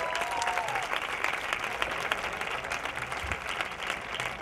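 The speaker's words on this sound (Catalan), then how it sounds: "Un aplaudiment, home!" Applause from an outdoor crowd gathered in a city square at a street protest encampment, continuous dense clapping at moderate level, fairly close, sustained evenly without talk over it.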